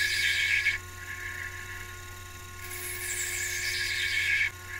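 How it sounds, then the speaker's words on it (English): A CNC machine cuts clock washers with a steady high-pitched whine that holds throughout, rising and shifting in tone partway through, over a constant low hum of motors with no talking. "This is where the CNC comes in handy with these repetitive cuts."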